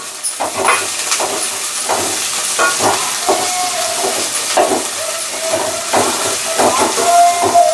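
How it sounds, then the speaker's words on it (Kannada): Bitter gourd fries in a pan with a steady hiss, broken by repeated bursts of sizzle and crackle as it is stirred. No one speaks. "ಚೆನ್ನಾಗಿ ಫ್ರೈ ಆಗಬೇಕು ಇದು ಯಾಕೆ ಫ್ರೈ ಆಗಬೇಕು ಅಂತ ಹುಡ್ಕೋತೀವಿ ಅಂದರೆ ಅದು ಕಹಿ ಎಲ್ಲ ಹೋಗುತ್ತೆ"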